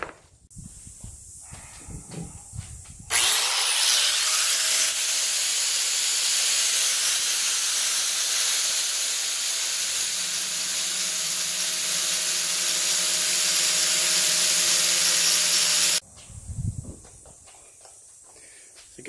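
A brake booster rod on a Ford F250 under restoration being cut down to length, producing a loud, steady, hissing cutting sound that runs for about thirteen seconds before stopping abruptly, close by.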